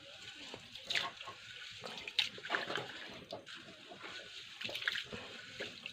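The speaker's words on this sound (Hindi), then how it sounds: "ये रहा चावल, इसको धोकर अच्छे से 2 बार धो देता हूँ इसको।" Rice is washed by hand in water, rinsed twice in a home kitchen, giving soft sloshing and splashing with small clinks, fairly faint and uneven in bursts.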